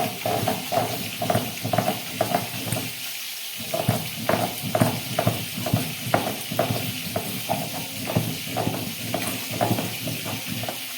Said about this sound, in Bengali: এদিকে আমার মাছ ভাজাটা বসিয়ে দিয়েছি, প্রায় 1 পিঠ হয়ে গেছে।